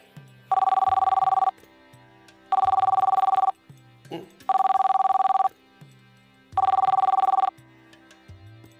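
A telephone bell rings loud and close in four regular, evenly spaced bursts of about a second each, with short quiet gaps between them and no talking.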